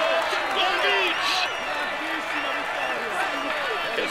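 Roadside crowd at the Tour de France applauds and cheers cyclist Primož Roglič, a steady roar of clapping and shouts with a whistle-like tone in it, while a commentator talks over the noise throughout.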